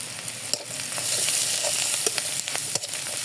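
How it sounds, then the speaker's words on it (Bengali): Onion fries in oil with a bay leaf, cardamom and cinnamon, a bright close sizzle broken by a few sharp scrapes and taps of stirring. "দিয়ে ভালো মতো পেঁয়াজটা ভেজে নেব।"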